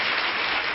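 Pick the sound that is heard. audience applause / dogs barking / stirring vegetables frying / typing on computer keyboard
audience applause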